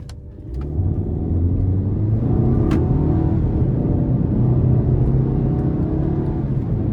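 A 2022 Volkswagen Passat SE accelerates in manual mode, a steady engine rumble rising and falling through shifts, heard from inside the cabin with no talking.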